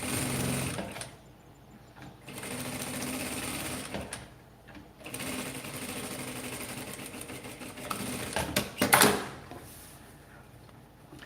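A sewing machine stitches a handbag made from fabric scraps in several bursts of steady, rapid whirring and clatter, stopping briefly between runs, close and clear with no talking.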